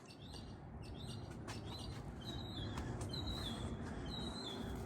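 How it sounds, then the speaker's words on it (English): Small birds chirping repeatedly in short, high, thin calls on a warm night, faint and somewhat distant over a steady low background hum. "as the birds are chirping their heads off at nighttime"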